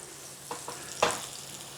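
Onions fry in a pot for a lamb biryani, giving a soft steady sizzle with a few brief stirring scrapes, the loudest near the end, close by and without talk.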